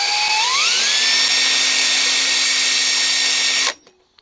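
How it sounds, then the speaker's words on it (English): A power drill whines as it bores holes through metal parts of a homemade clawed glove, rising in pitch then holding steady and loud for several seconds before cutting off abruptly in a quiet garage. "I'm drilling holes in here."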